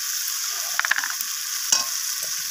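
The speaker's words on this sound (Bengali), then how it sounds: "তো এইভাবে ভালোভাবে কষাতে থাকবো" Spice masala for a spicy surmai fish curry is stirred and sautéed in a pan, with a low steady sizzle and a few brief scraping strokes of the spoon against the pan.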